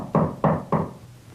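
Three firm, evenly spaced knocks land on a wooden door, heavy and close, followed by a short quiet.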